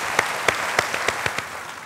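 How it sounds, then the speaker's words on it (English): An audience at a televised quiz competition claps in a few sharp, evenly spaced hand claps that sound more like a short rhythmic patter than a full ovation, over a soft room background. "Give her a big round of applause."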